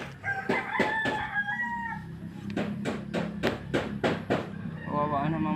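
A rooster crows several times in a row, loud and close, with clucking nearby and people talking over the calls.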